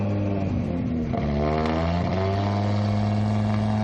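A historic Ford RS 2000 race car at the Estoril Classics circuit meeting, its loud, steady engine note filling the clip with pitch swings as it drives past.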